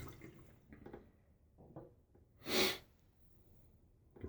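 A single short burst of running water rinsing a Gillette Rocket UK Gold safety razor during a wet shave, loud and close, set between quieter rustles and faint handling sounds.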